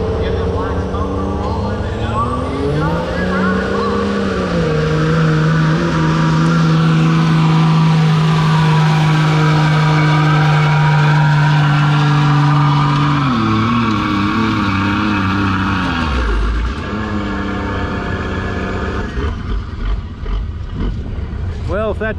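A black Dodge truck pulls the sled at a tractor pull, its engine roaring loud and close with a long sustained drone that climbs in pitch, then drops as the run ends.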